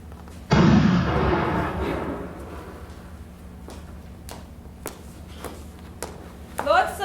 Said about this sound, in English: Lord Sebastian, was that the royal cannon I just heard?